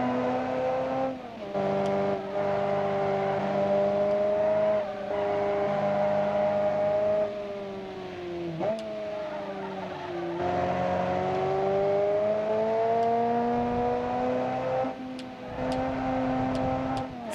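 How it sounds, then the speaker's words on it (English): Flat-plane V8 engine of a car in the Automation game, a buzzy droning note that holds steady, dips at shift points and climbs again over about seventeen seconds, with no talking. "The flat plane V8 sound is always funny."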